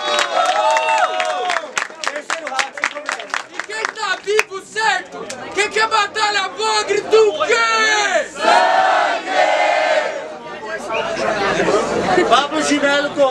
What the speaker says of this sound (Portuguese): salva de palmas pra esse segundo round aí